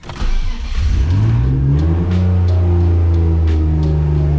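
A BMW E46 engine starts and holds a loud, close idle, its low drone swelling slightly as the car is put into gear, with faint clicks above it and no talking.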